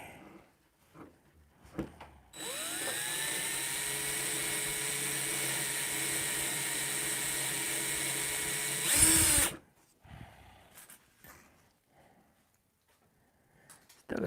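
A rotary tool fitted with a straight cutting bit rounds off a radius, giving a steady high-pitched whine that holds for about seven seconds before a brief louder burst and spin-down, with quiet workshop sounds around it.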